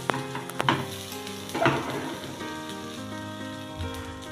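A pizza on a readymade paneer-topped base sizzles softly in butter in a pan, a light crackling frying sound with a couple of clatters from the pan early on, no talking.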